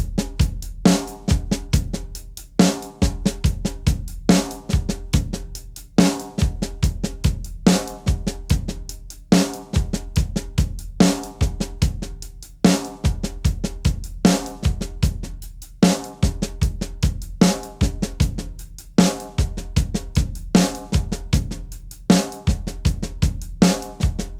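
A drum kit plays a paradiddle groove in 13/16, a steady, tightly repeating pattern of kick, snare and cymbal strokes that loops evenly throughout with no talking.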